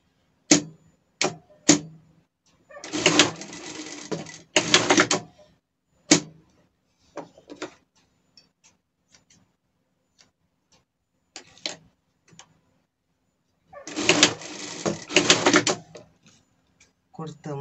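A sewing machine stitches a seam on fabric for a pet dress, running in two clear bursts of rapid mechanical whirring, separated by scattered clicks and handling taps, close and fairly loud.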